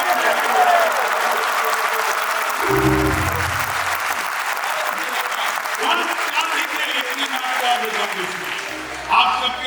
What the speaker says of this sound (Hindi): आप लोग जोरदार तालियां।